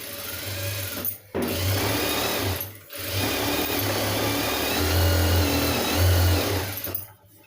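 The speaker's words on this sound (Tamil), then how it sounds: "அமுக்கு தையல் போடணும்" A sewing machine topstitching the lining of a blouse sleeve runs in a steady, close mechanical whir, stopping briefly twice before resuming, with no talking.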